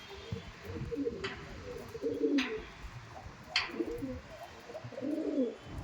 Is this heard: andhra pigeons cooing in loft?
yes